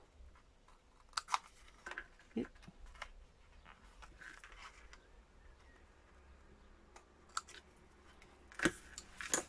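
Scissors snip at an angle through a paper corner for a 3D scrapbook frame, several quiet crisp clicks and cuts spread across the stretch, loudest near the end, with faint room noise between.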